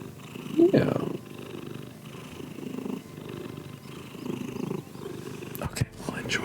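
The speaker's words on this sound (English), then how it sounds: "I'll enjoy purrs for a bit" A female house cat purrs up close, a soft low rumble pulsing steadily under a person talking, with a brief sharp clatter near the end.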